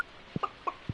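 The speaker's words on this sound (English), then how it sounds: "There are chickens." Chickens on a farm in the video game Stardew Valley give a few short, soft clucks, four quick separate calls over a quiet background.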